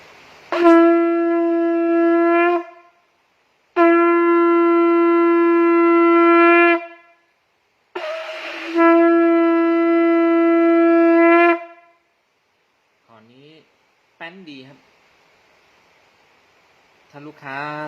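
Three long, steady blasts from an eight-inch conch shell horn, each a few seconds with brief pauses between, followed by someone talking.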